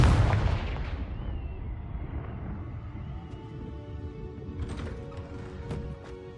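A Confringo fire spell explodes in the video game Hogwarts Legacy: one loud deep boom at the start that rumbles and fades into a lingering low roar, with faint clicks and clatter afterward.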